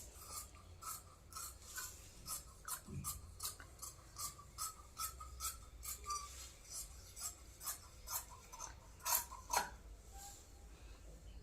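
Scissors cut through blouse fabric for a 36-inch katori blouse, a faint series of rhythmic crisp snips and rasps repeating about once per second, close and quiet with no talking.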